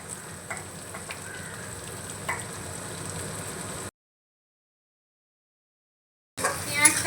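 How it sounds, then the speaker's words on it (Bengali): Lightly fried garlic crackles in oil before chopped onion goes in: a steady close sizzle, then a sudden break into silence, then a louder, busier frying burst returns at the end. "রসুনটাকে হালকা ভেজে নিয়েছি, এখন দিয়ে দেব কুচনো পেঁয়াজ।"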